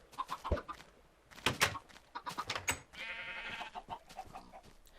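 Chickens clucking in the video game Minecraft, a run of short, close clucks and squawks coming in bursts, with softer farm-animal sounds and a steadier buzzing tone partway through.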